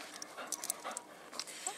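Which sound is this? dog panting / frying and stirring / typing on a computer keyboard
dog panting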